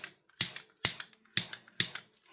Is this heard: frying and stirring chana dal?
no